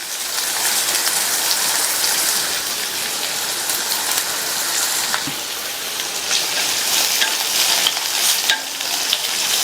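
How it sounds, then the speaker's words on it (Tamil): Whole dried red chillies sautéing in hot oil in a pan make a loud, dense, continuous crackle and sizzle with scattered pops, close up and with no voices. "காஞ்ச மிளகாவை முழுசாகவே சேர்த்துக்கங்க. இதை லைட்டாக வதக்கி விட்டுட்டு கறிவேப்பிலை சேர்த்துக்கலாம்."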